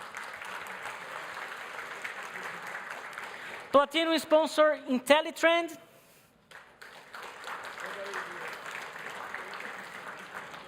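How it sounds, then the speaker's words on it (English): An audience applauds for sponsors at a tech conference summit, with steady clapping filling the room before and after an announcer reads out names over a loudspeaker. "Please, a round of applause for our sponsors."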